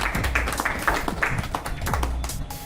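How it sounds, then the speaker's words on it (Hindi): A gathered audience at a local trade association meeting claps to welcome a newly named town president, steady close applause running throughout with some voices underneath. "तो एक बार ताली बजा के आप लोग स्वागत करें"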